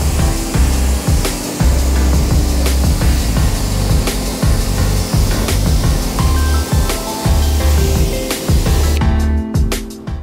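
A hose sprays water over a vehicle tire in a steady, loud, close hiss with slight fluctuations, cutting off just before the end.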